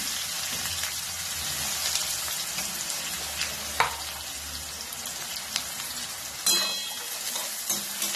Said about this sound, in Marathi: आता कांदा चांगला लालसर भाजायचा आहे.